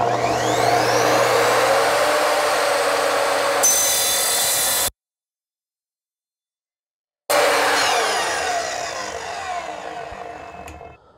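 Evolution R255SMS 10-inch TCT multi-material sliding miter saw cutting copper: a loud, steady high-pitched blade whine and grinding cut, a brief silence, then the motor returns and gradually winds down to quiet.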